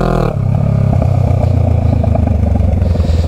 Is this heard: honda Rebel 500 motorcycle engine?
yes